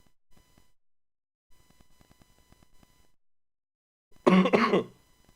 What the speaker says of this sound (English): That's the last time I'm gonna cough.